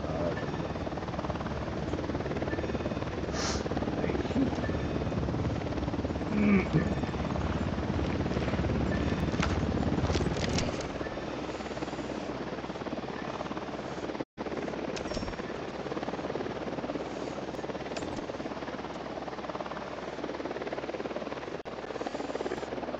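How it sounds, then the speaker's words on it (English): Helicopter in Ghost Recon Wildlands approaching with a loud, steady rotor drone that fills the scene, easing slightly partway through and then continuing unbroken. "Helicopter incoming."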